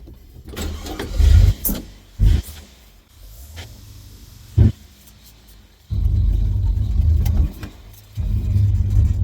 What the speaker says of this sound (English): I'm going to fire it up and just yard drive it